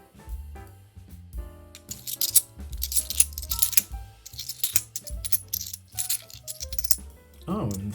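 Bags of £2 coins are opened and the coins tipped out and handled, giving bright metallic clinks, jingles and rattling scrapes in irregular bursts, close up.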